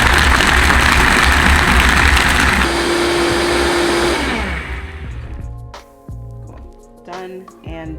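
A blender whirs loudly and steadily as it blends a Vega protein drink, the motor pitch shifting partway through before it winds down and stops, leaving quieter clicks and handling noises.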